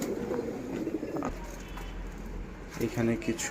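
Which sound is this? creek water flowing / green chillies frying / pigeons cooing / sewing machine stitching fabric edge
pigeons cooing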